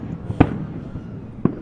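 Fourth of July fireworks in 2011: two separate booming bursts about a second apart, punchy and fairly near, over quiet outdoor background.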